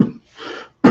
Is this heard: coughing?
yes